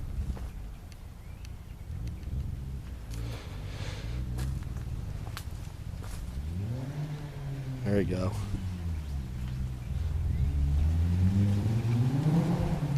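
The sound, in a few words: old Mazda Protege car engine running and revving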